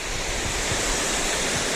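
Rushing water of a waterfall in Walton Glen Gorge, a steady broadband roar, close and continuous for a brief moment with no voices.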